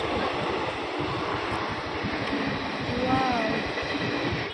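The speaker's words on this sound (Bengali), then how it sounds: "রেলগেট পড়েছে ট্রেন যাচ্ছে আমরা দাঁড়িয়ে রয়েছি এখন" A train rumbles past a closed railway crossing near Barrackpore with steady broadband noise, a brief high wheel squeal near the end, over a busy roadside crowd murmur.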